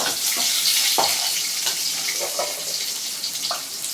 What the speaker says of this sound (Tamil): இப்போ அடுத்தது தக்காளியை போட்டு வதக்கிக்கலாம்